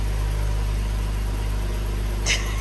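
A car engine idling close by, a steady low hum with constant vibration and no revving, heard alone, with a brief faint click near the end.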